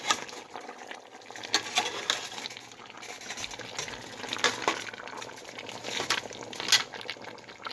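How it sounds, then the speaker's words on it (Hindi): Chicken simmering with mixed masala in a pot for chicken biryani, a steady close bubbling and sizzling with occasional clinks of utensils against the pot. "ये मैंने मसाला मिक्स कर दिया है, अब चिकन पक रहा है।"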